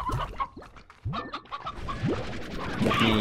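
Chickens clucking in the video game Slime Rancher, a flurry of close, choppy clucks and squawks in quick irregular succession, ending with a brighter sustained tone, no talking.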